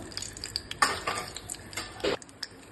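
A tempering of chana dal, urad dal, mustard seeds and cumin sizzles in oil for a bitter gourd dish. Stirring scrapes and small crackling bursts come in quick, irregular strokes, close by and moderately quiet.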